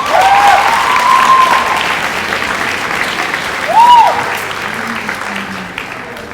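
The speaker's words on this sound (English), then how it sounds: "let's give us a big round of applause" A crowd of graduates at a class of 2019 ceremony breaks into loud, sustained applause, with a few cheers and whoops rising above the clapping.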